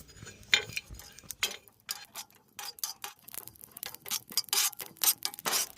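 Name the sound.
stirring cumin and fennel seeds while dry-roasting in a pan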